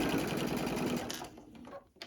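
A home sewing machine stitches the side seam of a fabric bag at a 3/8 seam allowance, a steady rapid mechanical whir and needle clatter for about a second, then slowing and stopping with a few faint clicks.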